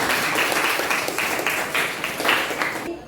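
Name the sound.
classroom applause for a group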